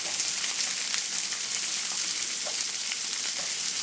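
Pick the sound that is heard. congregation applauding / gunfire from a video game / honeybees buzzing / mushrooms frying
mushrooms frying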